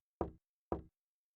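Two sharp knocks, about half a second apart, from a dungeon-crawling game, crisp and close with silence around them.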